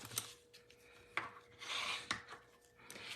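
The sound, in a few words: burnishing a folded cardstock card base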